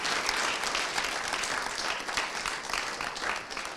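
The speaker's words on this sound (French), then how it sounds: "Je vous prie de les applaudir." An audience at a children's Christmas competition final applauds the finalists with dense, steady clapping that fills the room evenly and holds at a constant level throughout.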